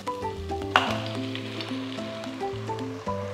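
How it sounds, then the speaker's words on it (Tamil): Marinated mutton goes into a pan of sautéed tomatoes for a Tamil mutton kuruma, raising a steady close sizzle and hiss of frying with a brief sharper burst as the meat lands, over a sustained low musical hum. "இப்போ நான் இதில் நம்ம ஊற வச்ச மட்டனை சேர்க்க"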